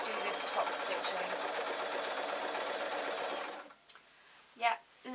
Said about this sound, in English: let's just do this top stitching